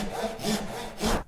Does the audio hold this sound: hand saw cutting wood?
yes